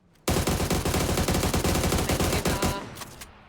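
Loud, sustained automatic gunfire in a video game match, a rapid continuous burst of shots that starts abruptly and tapers off into fading echoes, with no talking.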